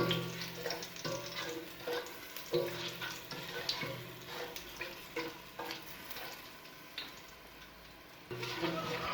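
Dry red chillies and curry leaves fry in oil with a close sizzle and crackle, broken by repeated scraping stirs and clinks of a spoon against the pan, and a faint voice underneath.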